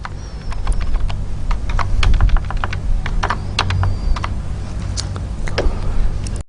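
Computer keyboard typing as code is entered, a rapid, irregular stream of close key clicks that briefly pauses and then resumes, with no talking.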